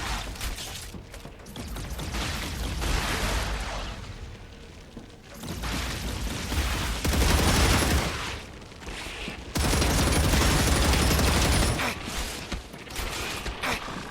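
Gunfire in the StarRupture video game erupts in dense, repeated bursts of rapid shots and mechanical clatter, swelling and dropping across the stretch with brief lulls, loud and close throughout.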